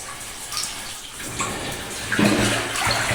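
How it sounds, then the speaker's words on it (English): Water rushes steadily through a deep flooded drain tunnel, a continuous broadband roar that swells slightly toward the end, with no voices over it. "And just shows you how much water's coming through that."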